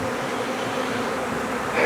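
A swarm of honeybees buzzes outdoors near an apiary, a dense, steady hum of many wings heard close and continuous, with no voices.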